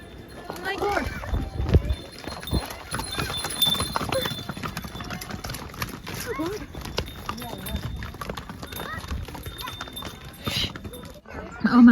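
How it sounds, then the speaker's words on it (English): Horses come running along a hillside trail at Kufri near Shimla in the Himalayas, their hooves clip-clopping in quick, uneven bursts up close, with people talking and exclaiming over the hoofbeats. "Horses came running."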